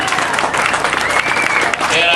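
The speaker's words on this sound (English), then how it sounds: "And you can clap, it makes me feel better." Applause from an audience at a political rally for state lawmakers backing energy drilling, a dense, steady wash of clapping mixed with crowd voices, fairly loud throughout.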